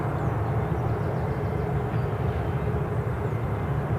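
A British Airways airliner at Newcastle International Airport gives a steady, dense jet roar at some distance that holds at an even level without breaks.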